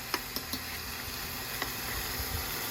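A small fresh fish frying in a pan, a quiet steady sizzle and bubbling close by, broken by a few soft clicks and taps.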